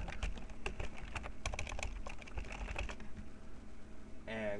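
Fast typing on a computer keyboard, a dense irregular clatter of close key clicks for about three seconds that thins out, with a brief different tone at the end.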